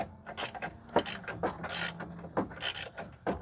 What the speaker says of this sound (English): I'm going to try and get up under here so we can all see what Gary's really wrenching on.